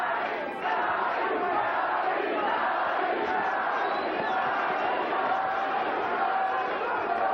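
A boxing crowd on its feet roars and cheers continuously during a round of the Arturo Gatti vs Wilson Rodriguez fight, a dense sustained wall of shouting with a brief dip near the start.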